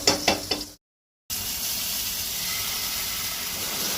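Butter and oil sizzling in a hot frying pan while preparing Goan chicken, a steady bright hiss that runs continuously after a few brief clinks and a short gap.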